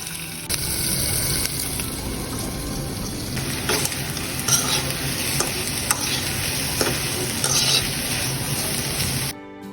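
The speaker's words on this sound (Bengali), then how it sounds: "আর সাথে করবো ইলিশ মাছ ভাজা" Hilsa fish frying in oil in a home kitchen, with a loud, continuous close sizzle and scattered crackles and stirring clicks, no voices, cutting off abruptly at the end.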